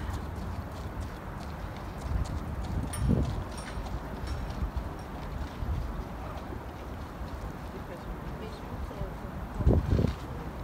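Horses of the Danish royal stables in Copenhagen, hooves clip-clopping at a distance amid outdoor ambience and wind, with a couple of louder thuds and a voice talking over part of it.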